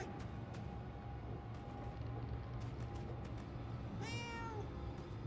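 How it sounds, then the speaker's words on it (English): A cat character in the video game Murdered: Soul Suspect gives a single short meow as it jumps, quiet against a steady low in-game ambience with a few faint clicks. "I do like the detail of the little meows every time you you jump"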